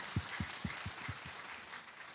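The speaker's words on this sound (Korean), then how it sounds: "하나님께 영광의 박수 한번 올려드립시다." Church congregation applauding during a Sunday service, a short round of clapping with a few distinct claps at first, then blending into a steady wash of applause.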